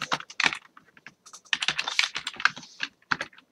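Command being typed on a computer keyboard while programming a ComputerCraft computer in Minecraft: quick bursts of crisp, close key clicks, then a short pause before another rapid run of keystrokes.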